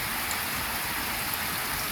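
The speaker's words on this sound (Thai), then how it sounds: "โอ้วันนี้ฝนตกครับ เดี๋ยวตกเดี๋ยวแดดเดี๋ยวตกเดี๋ยวแดด" Steady, dense rain falls on a house construction site where concrete columns are going up, a loud continuous hiss of drops with no pauses and no voices.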